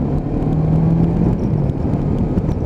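Loncin Voge 500DS motorcycle accelerating through the gears: a loud, close, rumbling engine drone with wind roar, steady and continuous over a few seconds.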